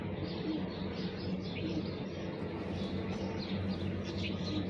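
Soft pigeon cooing and faint chirps beneath a steady low rumble of background noise, continuous throughout.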